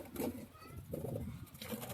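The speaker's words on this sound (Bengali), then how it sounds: "উপরে দেখলাম যে ঘুঘু আছে" Soft, low cooing of doves, faint and brief, with a murmur of background noise.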